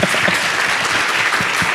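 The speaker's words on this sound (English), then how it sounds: "Well, if you heard claps" An audience claps for a panel at an e-commerce conference, a loud, close burst of dense applause with a few sharper individual claps standing out.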